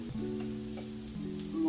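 Taco meat sizzles steadily in a pan on the stove, a soft, even frying hiss with a low hum underneath, heard alone without talking.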